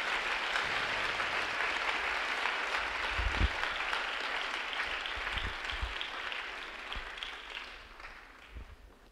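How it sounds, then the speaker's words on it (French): A church congregation claps its hands for the Lord, a sustained wash of applause at moderate distance with a few louder individual claps standing out, slowly tapering toward the end. "Est-ce qu'on peut applaudir le Seigneur?"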